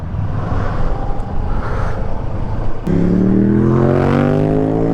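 A motorcycle engine drones loud and close while riding, with wind rumble throughout, then the revs climb in a rising whine as the rider accelerates.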